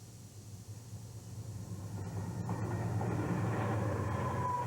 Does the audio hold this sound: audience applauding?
no